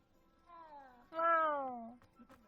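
Two drawn-out cat meows from the video game Hogwarts Legacy, the second louder and longer, against a quiet background.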